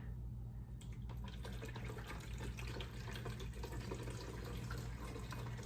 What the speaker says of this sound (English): make sure you put your bowl back here to catch all that water because it's gonna come out fast